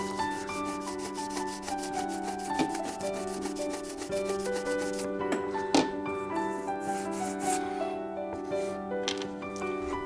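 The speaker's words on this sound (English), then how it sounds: "I always use my track rubber to scrub off any flux or solder that is adhering to the top of the rails" Track rubber scrubbing solder and flux off N scale model rails: soft continuous rubbing and scraping runs throughout, faint and close beneath a steady background tone, with no talk.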